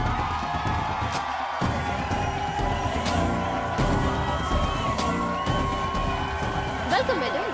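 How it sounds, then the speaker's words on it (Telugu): A studio audience at a Telugu television show greets an arriving family with continuous clapping, cheers and whoops, loud and sustained throughout, with a host's voice faintly mixed in. "మీ చప్పట్లతో ఘన స్వాగతం పలకండి. చప్పట్లు."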